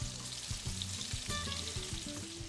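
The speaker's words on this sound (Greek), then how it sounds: "Και τηγανίζουμε 2 λεπτά από κάθε μεριά." Lentil patties sizzle steadily in hot oil in a pan, a continuous bright crackle with soft low tones running underneath throughout.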